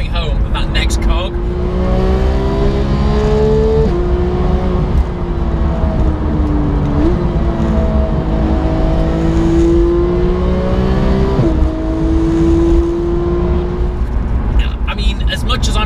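A Porsche 991 GT3 engine revs hard toward 9,000 rpm, with sharp gear changes about every three to four seconds cutting the rising tone. The sound is loud, continuous and close throughout.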